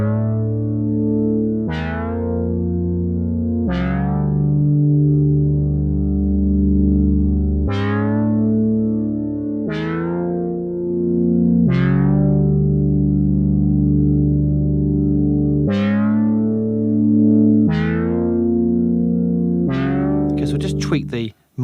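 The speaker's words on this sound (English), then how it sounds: "place on a distortion effect, in fact a guitar amplifier effect. This is a great way of adding some extra harmonics to the sound." Disco lead synth run through Logic's Amp Designer guitar-amp distortion with a clean jazz preset, playing repeated sustained notes with sharp bright attacks that decay into a thick, harmonically rich tone, ending in a brief burst of noise.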